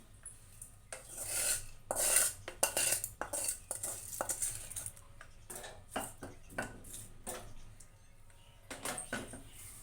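A spoon stirs tempering into mint peanut chutney, with intermittent scraping and clinking against the bowl, fairly quiet and close, in uneven bursts with short pauses.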